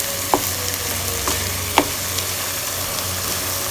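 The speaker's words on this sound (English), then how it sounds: "So I'll brown it. And this is a pound of keema." A pound of finely ground keema spiced with salt, paprika and turmeric browns in a pan, giving a steady close sizzle with a few sharp spits and pops and no talking.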